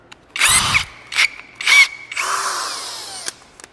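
A power drill whines in several short bursts drilling through metal on a custom COE truck fender, with a steady high motor tone and gritty cutting noise. It ends in one longer run, close and loud.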